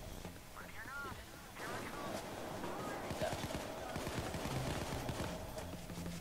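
Gunfire in the heist game Payday The Heist 2, a quiet, steady stream of rapid shots in a busy mix, with people talking over it.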